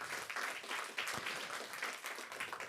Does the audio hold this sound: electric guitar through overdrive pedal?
no